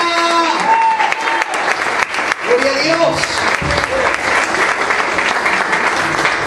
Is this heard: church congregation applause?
yes